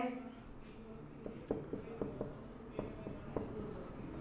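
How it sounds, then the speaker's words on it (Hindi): Question being written on a classroom board, heard as a quick series of light taps and short scratchy strokes over a faint background murmur of voice. "प्रश्न लिखता हूं आपके सामने"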